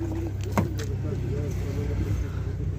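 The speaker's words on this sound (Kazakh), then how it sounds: "Машина жанып тұр." A 2012 Volkswagen Passat with a 2.5-litre engine runs at idle, a low steady hum under a voice talking nearby.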